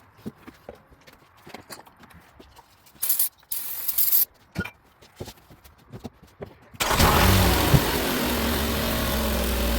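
A 2008 Nissan Altima with a lean bank 1 fault, its engine cranked after a few sharp clicks and knocks, then catching and settling into a steady, close idle that runs to the end.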